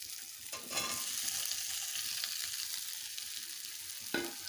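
Fried potatoes go into sizzling masala for a fish roe curry, frying in a pan with a steady bright hiss and a few scraping stirs, including a sharp one near the end.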